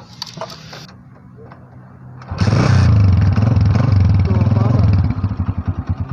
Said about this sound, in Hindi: तो चलिए पहले जो है वो बाइक को स्टार्ट कर लेते हैं।